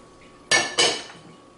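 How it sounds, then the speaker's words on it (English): Lentils, a cinnamon stick and a bay leaf tipped from a plate into a pot: two quick close rattling pours in a row, the second trailing off into a short scrape, with no talking. "So I'm going to drop my lentils in. I'm going to drop my cinnamon and bay leaf in."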